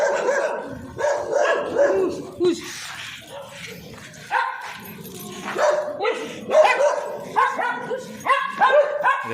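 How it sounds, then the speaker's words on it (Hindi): A dog barks repeatedly at a pig nearby, with sharp yips and whimpery barks coming in uneven bursts, loud and close, with voices mixed in. "डॉग इसको भौंकने के बजाय पिगी को भौंक रही है।"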